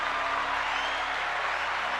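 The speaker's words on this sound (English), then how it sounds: "Round of applause from a live studio audience for Garrett and J-Dub" A live studio audience claps steadily, a dense wash of applause that holds at an even level throughout with no pauses.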